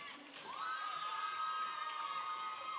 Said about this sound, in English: A big cheer goes up from the crowd for Crazy Curls' first jam of the evening